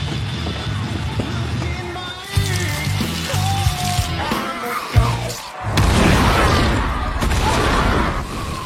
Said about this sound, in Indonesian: Mercer menggunakan granit untuk meledakkan tempat itu